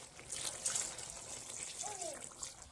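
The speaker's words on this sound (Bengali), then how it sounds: "এবার এতে গরম জল দিয়ে দিচ্ছি গরম জলটা দিয়ে দিচ্ছি" Hot water poured into a pot of mutton curry with potatoes, a brief soft splashing gush with a trickle, close but fairly quiet.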